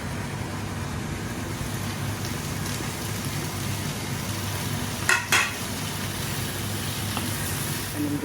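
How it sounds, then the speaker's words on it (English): Paneer and potatoes frying together in a pan give a steady, even sizzle throughout, broken by a short utensil clatter partway through. "So I'm going to add the paneer in now because the potatoes are soft."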